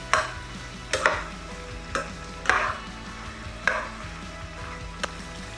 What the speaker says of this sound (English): Just stir this well together.